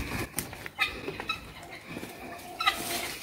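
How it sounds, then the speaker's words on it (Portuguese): Carijó and other farm hens clucking in a poultry yard, with scattered short clucks and calls at moderate distance over a busy outdoor background. "Aí aqui tem outras galinhas também."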